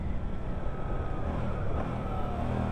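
A Suzuki GSX 8S motorcycle riding under throttle, a continuous engine drone mixed with heavy rushing wind noise, steady and loud with slight swells.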